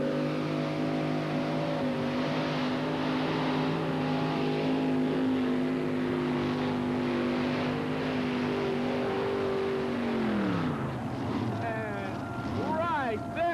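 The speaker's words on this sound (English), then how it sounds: "Did you see that tractor come down the track?" Pulling tractor at a 1991 USHRA event in Bowling Green roaring down the track, a loud sustained engine drone holding pitch for about ten seconds before dropping sharply as it shuts down, with a voice talking over it.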